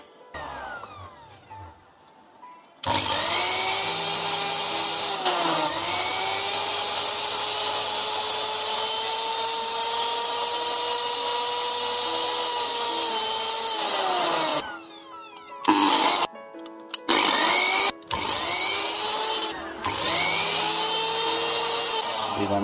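A repaired mixer grinder with a worn carbon brush is switched on. Its motor whines at a steady high pitch for a long stretch, then cuts on and off in short bursts as the brush arcs.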